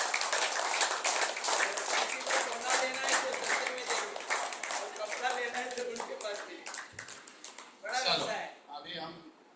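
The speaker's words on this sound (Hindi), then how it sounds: "भी जोरदार ताली बजाएं।" Audience applause for two brothers at an acupressure program: dense, continuous clapping from a crowd that stays steady, then thins and tapers off toward the end.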